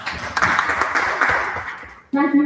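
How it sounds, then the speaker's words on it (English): Audience applause at a school gathering of headmasters in Kisoro district, dense scattered clapping for about two seconds that fades out, followed by an abrupt voice. "Let us clap for them, guys."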